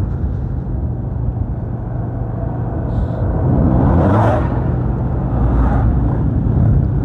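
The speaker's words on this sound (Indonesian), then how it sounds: "truk muat tebu yang miring-miring." A sugarcane-laden truck rolls past on a rural road toward Kepanjen, Malang, its low engine rumble and road noise rising as it draws near, with a brief whoosh of passing partway through and no one talking.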